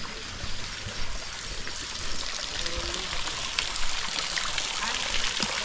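Cool stream water flows at the Chilakalagutta shrine near Medaram, making a steady, close, bright rushing and trickling sound that runs without a break.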